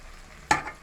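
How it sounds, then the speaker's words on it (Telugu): Chopped tomatoes hit hot oil in a pan of frying okra curry, giving one brief, close burst of sizzling hiss that quickly fades against a quiet background. "టమాటాలు వేసుకుని ఒకసారి తిప్పి మూత వేసుకుంటాను."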